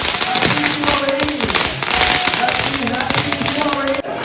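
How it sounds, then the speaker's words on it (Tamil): Firecrackers bursting during a Deepavali celebration, with a run of sharp cracks and taps under voices and a busy crowd. "இப்போ நம்ம பட்டாசு வெடிக்க போறோம்."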